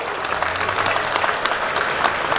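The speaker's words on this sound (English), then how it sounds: "That wasn't a great applause" Bidders in a collector car auction room clapping after a lot sells, a modest, close burst of scattered hand claps over a low room murmur, brief and fairly thin.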